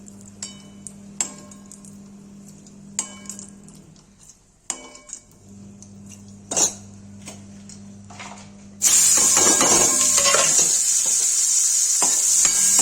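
Chopped onions fry in a pan of oil after mushrooms were cooked in it, with scattered clicks and scrapes of stirring, then a loud, dense sizzle suddenly bursts up near the end and holds steady.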